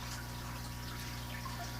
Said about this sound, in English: The first thing you want to do is to get your hot water going full blast